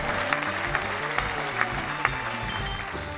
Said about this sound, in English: I'm gonna give you some applause for saying that.